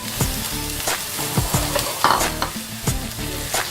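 Boiled chana dal and tomatoes go into browned onions frying in a pan for a bitter gourd and split chickpea curry. Several soft thuds and scraping stirs sound over a continuous close sizzle, with no talking.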